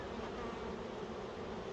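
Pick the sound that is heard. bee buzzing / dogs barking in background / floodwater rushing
bee buzzing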